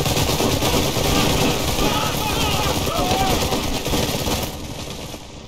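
Sustained gunfire from units opening fire in the strategy game Iron Harvest, dense rattling machine-gun bursts and shots layered over battle noise, loud and continuous before easing off near the end.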